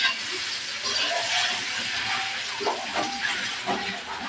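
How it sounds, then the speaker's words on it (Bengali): Pieces of green banana fry in hot mustard oil, giving a continuous hissing sizzle with some bubbling crackle that rises and falls slightly, heard up close throughout. "কলাটা একটু ভাজে নিব।"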